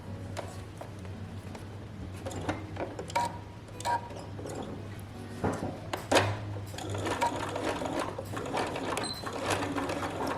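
A sewing machine runs a backstitch to secure a seam on a dress, a close, steady mechanical whirring with slight rises and dips and brief rhythmic clatter throughout.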